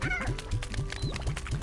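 Chickens in Slime Rancher cluck in a quick run of short, honking clucks close by, repeating in a fairly regular rhythm with no talk over them.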